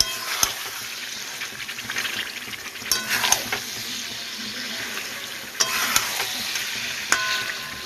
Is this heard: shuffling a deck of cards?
no